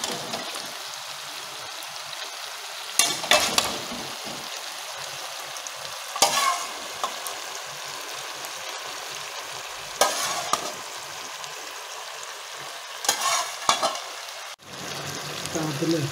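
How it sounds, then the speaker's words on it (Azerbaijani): Young veal meat sizzles in a pan of browned onions for a pan-fried meat and potato dish, a steady close hiss broken by loud stirring scrapes roughly every three to four seconds, with no talking. "İndi ətinizi əlavə edirəm."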